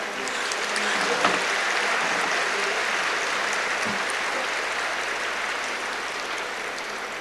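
A large seated audience at a spiritual gathering claps together in a broad, diffuse wash of applause that stays even and moderately loud, slightly distant, gradually easing toward the end.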